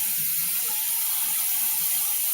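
Tap water runs steadily into a sink while something is rinsed in a home kitchen, a constant, fairly close hiss with faint clattering underneath and no voices.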